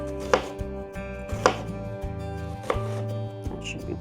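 A knife roughly chops red onion on a cutting board in four sharp, evenly spaced strikes, close and distinct over steady background music.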